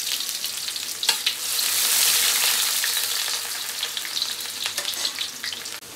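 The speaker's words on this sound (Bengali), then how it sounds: "পেঁয়াজটা লাল লাল করে একটু ভাজা হবে।" Onions frying in a pan for hilsa pulao, a steady close sizzle with occasional sharp crackles and stirring scrapes, fairly soft and without any voices.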